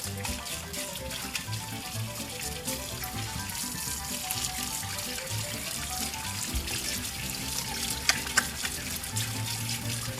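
A tap running steadily while hands are washed, a continuous splashing hiss of water over a sink, with faint background music and a few small knocks.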